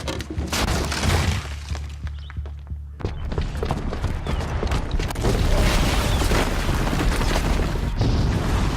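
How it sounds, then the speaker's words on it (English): A bomb detonates in Horizon Zero Dawn, a loud sustained roar of blast and crashing debris that fills the whole stretch, with a deep rumble underneath and a brief dip before the din swells again. "the booby trap on the bomb downstairs is gonna get set off"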